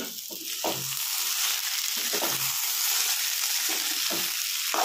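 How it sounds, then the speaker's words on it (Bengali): Schezwan fried rice ingredients with peas frying in a pan on a low flame, giving a steady close hiss with repeated soft scraping strokes of a spatula throughout. "এইবার কিন্তু ফ্লেমটা আমাদেরকে একটু কমিয়ে নিতে হবে এবং খুব ভালো করে এটা ভেজে নিতে হবে"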